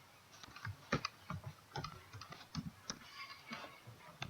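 Keys clatter on a computer keyboard in quick, irregular bursts of close, fairly soft taps as text is deleted and retyped in a spreadsheet chart, with no voice over it.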